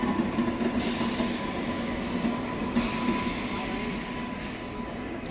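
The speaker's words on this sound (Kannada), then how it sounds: "ಗುರು IS ಇವಾಗ ಜನಶತಾಬ್ದಿ ನಮ್ಗೆ ಓವರ್ಟೇಕ್ ಮಾಡ್ಕೊಂಡು ಹೋಗ್ತಿದೆ." The Janshatabdi express passes on the main line at Chikkabanavara station, heard as a loud, steady rumble and clatter of rolling wheels that sustains throughout, with faint background voices.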